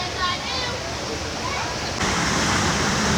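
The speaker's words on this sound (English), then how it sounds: "Got the rushing water coming down there" Rushing river water at Castor River Shut-Ins near Fredericktown, Missouri, a broad steady roar of flowing water that swells louder halfway through, with faint voices of swimmers mixed in.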